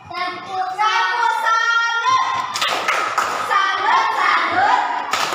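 Children in a classroom clapping a salute clap: loud rhythmic bursts of hand claps and thumps with children's voices chanting along throughout.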